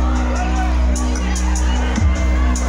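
A concert crowd at a country show at the Van Wert fair in Ohio roars steadily with cheering, whoops and shouts under loud amplified music, one brief louder burst near the end.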